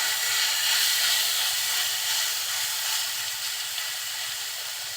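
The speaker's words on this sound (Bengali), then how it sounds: "এখন অল্প জালে ভাজা ভাজা করে নেব" Boiled radish greens frying in oil with turmeric in a pan over low heat, giving a steady, even hiss and sizzle that holds unchanged throughout without talk.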